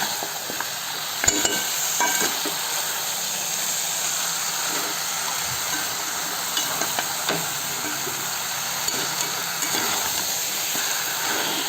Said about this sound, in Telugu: ఒక 10 నిమిషాలు ఈ నూనెలోనే బాగా మనము ఫ్రై చేస్తున్నామంటే మంచి టేస్ట్ వస్తుందండి.